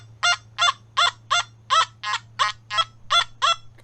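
Nokta Makro Simplex metal detector with an SP22 coil in field mode gives a target tone: about a dozen short, evenly spaced warbling beeps repeat over a faint steady low hum.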